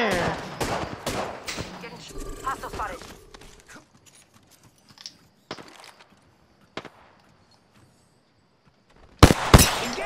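Rapid volleys of gunfire in the Apex Legends battle royale shooter crack in a dense cluster at the start, then thin to a few isolated shots before a sharp loud burst near the end.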